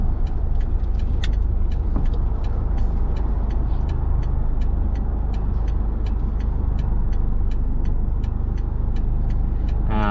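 Loud, steady engine and road rumble from a car driving along Rama II Road near Na Kluea, Samut Sakhon, turning back toward Bangkok, with regular ticking clicks throughout.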